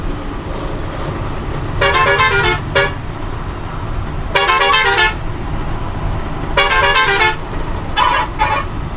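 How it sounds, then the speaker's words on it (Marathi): A car overtaking on the road honks repeatedly, with several loud horn blasts of varying length, some doubled, over a continuous roar of engine and road noise. "आणि आपली गाडी ओव्हरटेकिंग करणार आहे आता."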